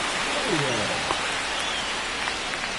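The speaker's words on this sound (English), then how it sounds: "This rain is not letting up." Steady hiss of heavy rain in the MLB The Show 25 baseball game, falling on a ballpark in Boston; constant, even downpour, with a brief voice-like warble near the start.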